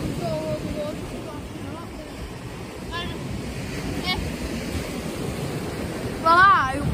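Sea waves crash against coastal barriers at Hornsea, a continuous roaring surf with wind buffeting the microphone, faint voices appearing briefly over the noise.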